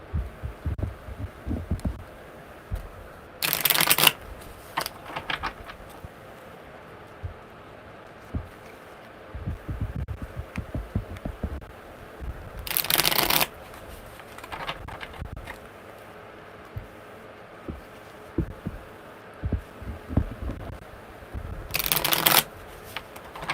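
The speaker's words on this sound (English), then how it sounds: "those were really amazing shuffles" Three quick riffle shuffles of a tarot card deck, each a brief crisp burst spaced several seconds apart, with soft handling sounds in between.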